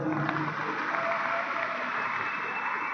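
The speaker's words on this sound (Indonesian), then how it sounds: "Tepuk tangan buat kita semua." Applause from an audience at a halal bihalal gathering of teachers and families, a steady clatter of clapping hands that fills the room at moderate loudness.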